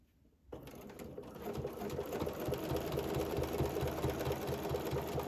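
A domestic sewing machine fitted with a ruler foot quilting small circles, its needle hammering in a fast, steady mechanical rhythm that starts abruptly and runs close and continuous.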